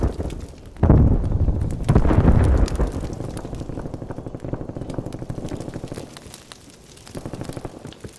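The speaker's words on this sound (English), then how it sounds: "Simtex grenade." A Semtex grenade detonating in the video game Call of Duty: Black Ops Cold War: two loud, close blasts a second apart, followed by a fading, crackling rumble.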